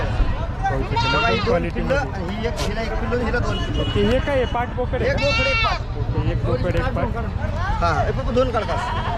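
Goats bleat repeatedly at the large Chakan goat and sheep market in Maharashtra, several loud calls rising over constant crowd chatter and someone talking nearby.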